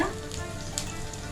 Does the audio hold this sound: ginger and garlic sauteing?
yes